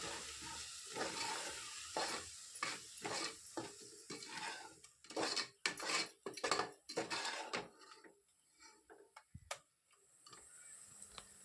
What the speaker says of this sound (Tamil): இப்போ இது போட்டுட்டு நல்லா மிக்ஸ் பண்ணி விட்டுடலாம்